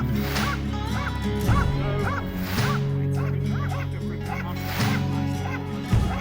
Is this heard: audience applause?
no